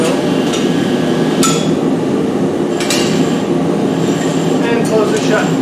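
A blacksmith hammers a newly formed iron ring shut at the end of an anvil during a campfire tripod demonstration, with a few sharp metallic strikes spaced irregularly over a loud, rumbling background.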